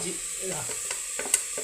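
Ginger and garlic being stirred as they fry in a pan for a chicken parts curry, a brief close sizzle with a few soft scraping strokes of the spoon.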